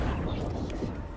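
A shadow grenade goes off in the Alan Wake 2 survival horror game, a dense rumbling blast wash with crunchy impacts that holds steady and loud through the brief moment.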